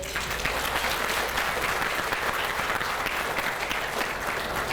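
An audience at a 2016 high school Hall of Fame induction ceremony applauds with a full, steady roar of clapping that holds evenly throughout, loud and unbroken.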